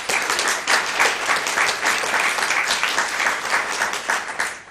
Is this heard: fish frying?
no